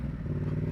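Yamaha Tracer 700 from 2017, A2-restricted, running with an Arrow exhaust, giving a short, steady low engine rumble with a slight clattering texture, heard close and alone.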